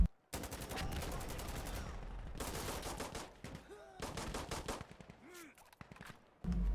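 Pistol gunfire in a first-person shooter video game, fired in rapid bursts of sharp, close shots that break off into short pauses, with brief voice sounds between them.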